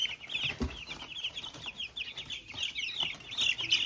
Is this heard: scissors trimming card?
no